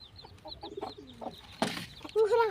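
Chickens clucking near a water drinker on a Nepali farm, soft scattered clucks with a louder squawk late on, close by in a quiet outdoor setting.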